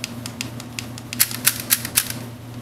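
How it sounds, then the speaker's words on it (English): Clicks from an E-Z Command DCC model railway track turnout switch, about four sharp snaps spaced roughly a quarter second apart over a faint background hum, close and fairly quiet. "push that down 4 times, and you'll hear this switch turn 4 times"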